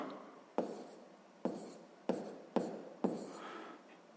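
A pen writes out a calculation on paper, making five distinct scratchy strokes in an irregular rhythm, close and quiet, with no talk.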